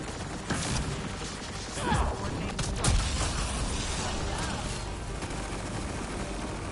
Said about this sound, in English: Grenade! Let's see you deal with this.